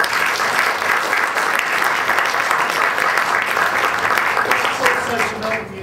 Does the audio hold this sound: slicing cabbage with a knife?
no